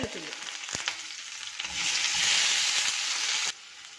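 Mustard seeds and kanthari chilies sizzle and crackle in hot oil for a Kerala thokku curry, a steady close frying hiss that swells midway and then drops off, with a brief stir-like clatter early on.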